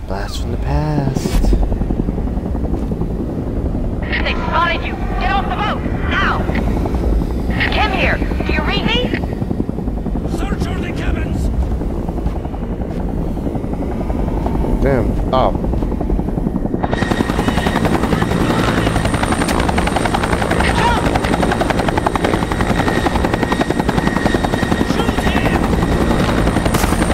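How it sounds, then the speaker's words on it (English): A helicopter in the video game XIII on Xbox, a loud rotor drone, with several short sound bursts and someone talking over it early on, then swelling to a fuller, steady roar in the second half. "The helicopter."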